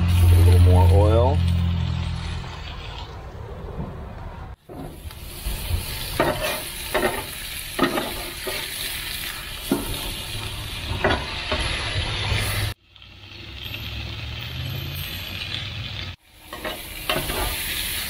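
Spam frying in oil makes a continuous close sizzle with scraping stirs and clinks. A voice talks over it, and the sizzle breaks off briefly twice where the recording cuts.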